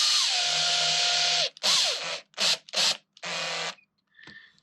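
Power drill driving screws into a glued wooden toybox joint, a long whirring run followed by several short bursts and a final faint tick, close and fairly quiet, no voices.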